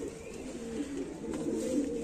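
Rampuri pigeons coo nearby in a low, repeated throaty warble, soft rolling calls overlapping one another at close range.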